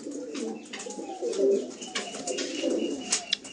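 Madrasi pigeons, closed-tailed birds with brown eyes, coo softly in low, rolling murmurs that repeat steadily over a faint background hiss, with occasional higher chirps mixed in.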